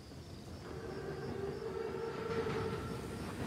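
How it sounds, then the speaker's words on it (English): A heavy armored train rumbling past in a World War II setting, a steady low rolling roar with a high whistle or horn tone sustained over it, continuous and fairly loud throughout. "Train's right on time."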